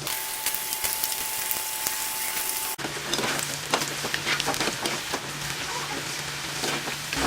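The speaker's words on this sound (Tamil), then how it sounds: "இப்போ சிப்ஸ் பொரிச்சு எடுக்கலாம்." Bitter gourd slices deep-frying in hot oil for chips, giving a steady dense sizzle with crackling pops that grows busier and louder midway as more slices drop in, with no talking.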